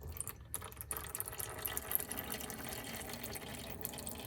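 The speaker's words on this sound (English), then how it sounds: "Now it should be pretty easy for the oil to drain." Engine oil pouring out of the oil pan of a Subaru WRX STI fitted with an IAG oil pan, a continuous close splashing stream of liquid with no talk.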